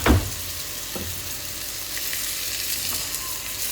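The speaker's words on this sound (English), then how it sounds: "So now I'm sauteing the meat." Flour-coated beef sautés over low heat in a little oil, giving a steady close sizzle with a sharp burst at the start and a few small pops and crackles later.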